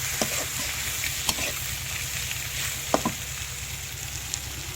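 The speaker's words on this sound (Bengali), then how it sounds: "দেখেন গাইস এবার এটা সম্পূর্ণ নাড়াচাড়া করছি।" Snake gourd fries in a pan in a village kitchen and is stirred, giving a continuous close sizzle with a few sharp scrapes and clinks from the utensil.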